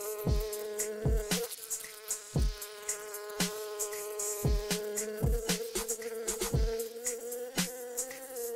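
A bee buzzes steadily and loudly, its drone rising and dipping. Sharp clicks and taps are scattered through it, with no voices.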